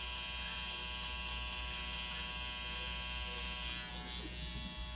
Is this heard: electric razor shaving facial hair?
yes